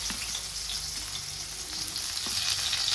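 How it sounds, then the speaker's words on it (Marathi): Chopped onion hisses and crackles in hot oil, a steady close sizzle with faint stirring clicks underneath, no talk. "तेल छान असं तापलेलं आहे मी तेलामध्ये कांदा टाकून घेते"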